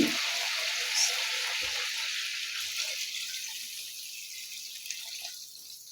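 A continuous rush of water, about two litres, pours into a hot pot of frying mutton, hissing and bubbling, gradually settling and quieting.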